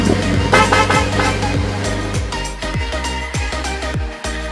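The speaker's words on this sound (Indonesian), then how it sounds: "dan suara klakson." A toy off-road car plays its horn sound, a series of loud electronic honks and toots repeating at a steady pace across the clip, close and clear with no talking.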